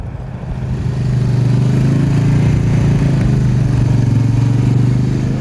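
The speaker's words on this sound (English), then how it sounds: "back a quad and trailer through an obstacle course" A quad bike engine drones steadily as it backs a trailer through an obstacle course during a competition, a loud, close, low motor note that swells in the first second and then holds level.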